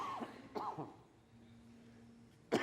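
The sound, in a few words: cough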